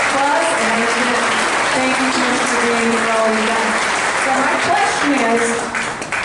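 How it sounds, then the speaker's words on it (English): Audience applause at a State of the County address, greeting County Commissioners: a sustained, full crowd clapping, loud and even, with some voices mixed in beneath it. "Please, a round of applause."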